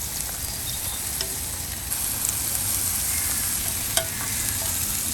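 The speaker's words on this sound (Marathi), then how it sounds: "आतां एक कांदो आमी हे बारीक शिनपाचे आनी कांदो घालून भाजया." Finely chopped onion fries in a pan for seafood paella, a steady sizzling crackle with a few sharp pops.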